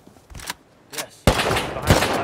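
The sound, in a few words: gunfire in the video game Rust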